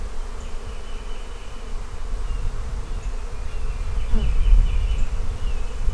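Honeybees hum steadily in an open hive during an inspection, a dense, continuous buzz with individual bees droning close by now and then.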